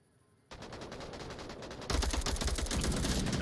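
Rapid automatic gunfire in the VR shooter Onward breaks out suddenly and grows louder partway through, dense overlapping bursts that sound close and continuous.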